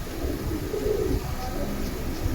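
Silver pigeons in a collection coo softly, a low steady murmur of overlapping calls close by, with no voices.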